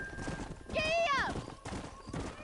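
A horse in Red Dead Redemption clip-clops along at a rhythmic gallop, loud and close, with a sharp whinny in the middle, while a voice speaks over the hoofbeats.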